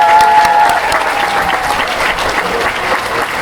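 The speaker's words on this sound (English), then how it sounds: "Let's give her a round of applause." A school ceremony audience at a 4th grade event claps steadily and loudly, dense applause running evenly throughout with faint whistling early on.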